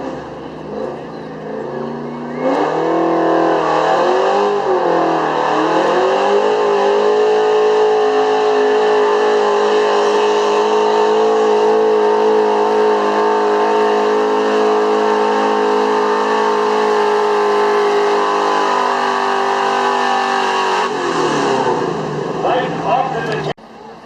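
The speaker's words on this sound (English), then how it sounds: "Ben Boland in a 71 Chevy, 454 under the hood." A 1971 Chevy truck with a 454 big-block engine at a street-class truck pull, its engine roaring loud and close, climbing in pitch and holding a long sustained high-rev drone for about twenty seconds before dropping off abruptly.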